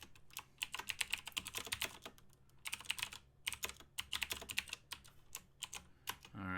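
Rapid bursts of keystrokes clatter on a computer keyboard while writing HTML code, quick taps in uneven clusters with short pauses, close and clear.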